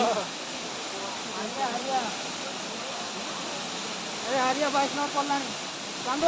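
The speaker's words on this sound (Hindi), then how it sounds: "देखिए तो क्या जोर से पानी बहू" A stream rushes hard through a forest during a Diwali walk, a steady close roar of water with people talking over it now and then.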